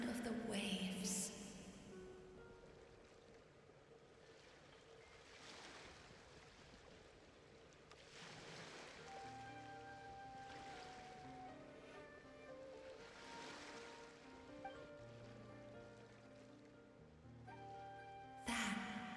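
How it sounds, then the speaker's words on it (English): Ocean waves in Genshin Impact washing in slow, soft swells, several gentle surges rising and fading at a distance beneath quiet music tones. "Go to where you can hear the sound of the waves."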